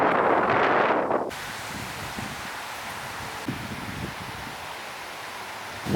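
Strong wind sweeps across a promenade in Ternopil, a loud rushing gust buffeting the microphone at first, then settling into a steady, broad roar.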